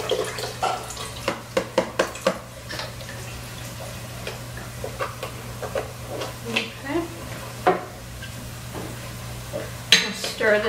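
A spoon stirs butternut squash soup in a pot, with scattered soft scrapes and knocks against the pot over a steady low hum and faint bubbling, close by.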